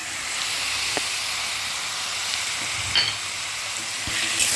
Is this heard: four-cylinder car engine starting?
no